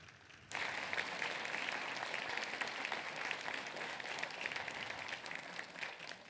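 At a legal-aid breakfast event, the audience breaks into applause for staff and pro bono attorneys, starting abruptly and holding as a steady, fairly quiet roomful of clapping.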